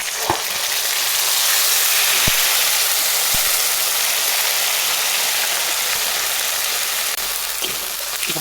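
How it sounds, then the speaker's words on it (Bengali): Spice paste of ground onion, tomato and masala sizzles steadily in hot oil for a papaya dalna with bora, a dense, close crackling hiss with occasional sharper pops and no talking. "মশলাটা আমি ভাজি নিলাম"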